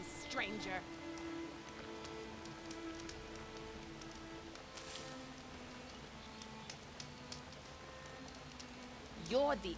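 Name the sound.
rain falling, from the video game Horizon Forbidden West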